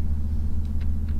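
A car engine in the Roblox game Southwest Florida idles with a steady low rumble, even and close, with no talking over it.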